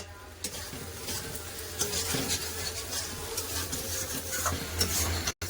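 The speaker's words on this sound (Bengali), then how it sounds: "ভেজে রাখা আলু আলু মশলার সাথে খুব ভালো করে কষে নেবো" Fried potatoes being sautéed with spice paste in a pan give a steady sizzle with scraping stir strokes throughout and occasional clinks of a utensil against the pan, close up and without talk.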